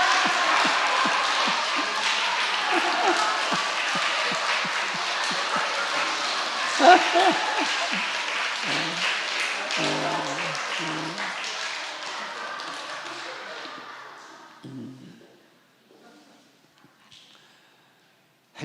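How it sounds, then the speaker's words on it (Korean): A church revival congregation claps loudly together in a dense, continuous patter that runs for several seconds, then thins out and trails off into near silence. "15초 동안 큰 소리로 박수 치면서 옆 사람과 시작"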